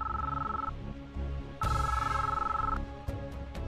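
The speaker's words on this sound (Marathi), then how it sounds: "घोरपडे साहेबांचा फोन आहे, गौतमच्या वडिलांचा." A telephone rings in an indoor scene, two bursts of trilling electronic bell tone with a short gap between them, followed by small knocks and clicks. No one speaks while it rings.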